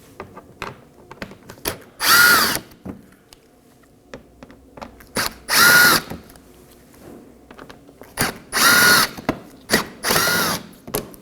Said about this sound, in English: on the corners we're going to locate 4 Phillips head screws. Go ahead and remove those.